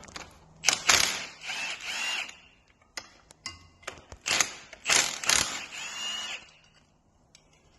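Bolts being undone on an Iveco 75E15 rear axle, close metallic ratcheting and clanking in two clusters of bursts with short pauses between, no talk.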